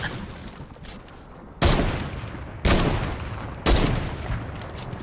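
Three loud, sharp gunshots in Fortnite ring out about a second apart, each with a brief echoing tail over a low background.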